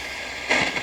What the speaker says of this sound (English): That's the sound of reception.